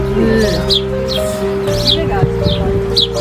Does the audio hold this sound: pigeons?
yes